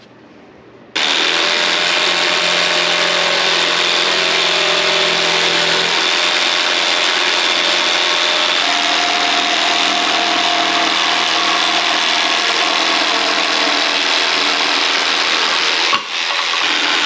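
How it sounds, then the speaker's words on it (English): A jigsaw cuts out a custom dash panel for a Fiat Spider, switching on abruptly and then buzzing loudly and steadily, its blade whining close up without pause until it stops near the end. "let's grab our jigsaw and we can start cutting it out"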